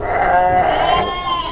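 Garut and Priangan sheep bleat at a livestock market, a close, loud, wavering cry that holds for over a second.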